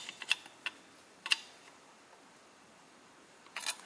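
A few faint, sharp clicks and taps scattered across quiet room tone as screws are worked down in a cross pattern on the top cap of a Ford Autolite 2100 carburetor during a rebuild; the clicks are isolated, with long gaps between them.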